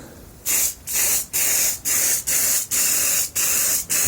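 Short hissing bursts of an aerosol baking spray onto wax paper as a release agent, about eight quick sprays in a steady rhythm, close and fairly loud with brief pauses between.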